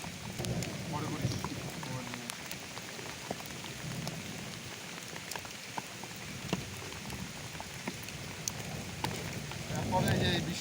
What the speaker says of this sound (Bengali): তারপরে যে বৃষ্টি শুরু হলো